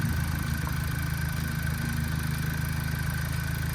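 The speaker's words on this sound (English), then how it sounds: "There's your engine." A stock Vauxhall Astra VXR 2.0T GTC in Arden Blue idles with its standard air filter, a steady low mechanical hum with faint clatter, close and even, no voices.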